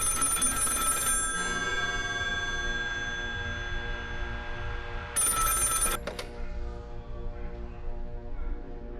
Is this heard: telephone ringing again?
yes